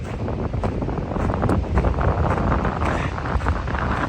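Strong mountain wind on the Appalachian Trail buffeting the microphone with a low, rumbling roar and gusty fluctuations, continuous and close.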